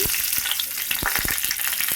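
Dry red chillies, garlic and tempering seeds hit hot oil in a pan, giving a loud, continuous crackling sizzle dense with sharp pops and spits, close and alone.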